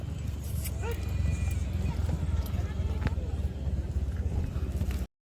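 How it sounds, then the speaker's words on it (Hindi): Hoofbeats of a pure Sindhi breed horse at a horse race gathering in Kutch, Gujarat: steady clip-clop under continuous crowd chatter and people talking close by, running without a break. "बहुत अच्छा घोड़ा है दोस्तों, प्योर सिंधी नस्ल का रॉप घोड़ा"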